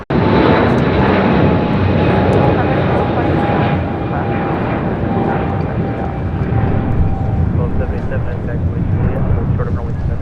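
Jet airliner at Los Angeles International Airport (LAX), its engines roaring loud and steady for the whole stretch, a broad continuous rumble with a faint whine on top, close by and unbroken.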